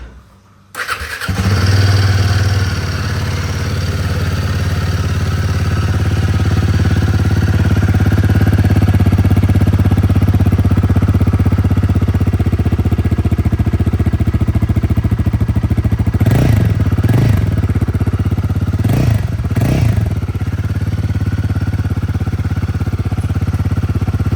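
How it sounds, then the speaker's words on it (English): A Royal Enfield Himalayan 450 on its stock exhaust cranks and fires, then settles into a loud, steady idle up close, with a few sharp throttle blips near the end and no talking. "let me feed you all through a stock exhaust sound on a Himalayan 450."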